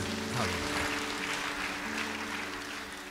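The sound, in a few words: applause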